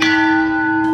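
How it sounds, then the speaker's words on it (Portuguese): A single loud strike of a club on a bell rings out with a sustained, steady metallic hum that lingers without fading much over its short duration. "dei uma porrada naquele sino com um porrete"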